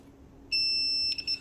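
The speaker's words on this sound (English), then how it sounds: "you can be beeping out like that. You can get a continuity tone or low resistance" A multimeter continuity tester gives a sharp, high electronic beep steadily for about half a second, followed by a short second beep against a quiet background.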